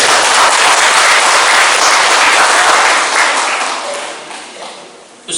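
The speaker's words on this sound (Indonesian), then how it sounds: "Semangat dan tepuk tangan untuk guru-guru yang bermutu." Loud, dense applause from an audience honoring teachers at a National Teachers' Day ceremony at an Islamic school in Jombang, sustained for several seconds and then tapering off.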